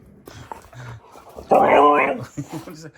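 A dog whimpers and yips close by, with one longer, louder whine in the middle between shorter, softer whimpers.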